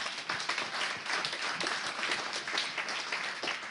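An audience applauds guests at a ceremony, a dense burst of many hands clapping, moderately close and steady for a few seconds.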